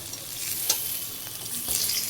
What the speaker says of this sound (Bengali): ইলিশ মাছের মাথাটা ভালো করে ভেজে নিয়েছি।